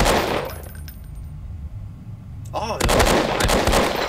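Gunfire in an Amnesia horror game set in a subway: a loud burst of shots, a quieter stretch with a brief warbling tone, then a heavy volley of close shots, with a short exclamation from a voice.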